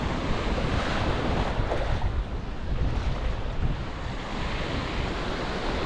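Ocean surf washing and breaking continuously as a surfer carries a board out into the waves, with steady wind roar against the microphone.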